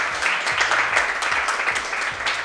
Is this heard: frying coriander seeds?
no